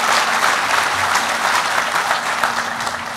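Audience applause at a tribal nation's campus headquarters grand opening, steady dense clapping from a sizable crowd sustained throughout without pause.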